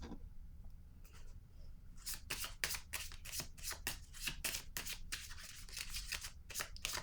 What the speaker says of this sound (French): je vais plutôt piger une carte sur l'harmonie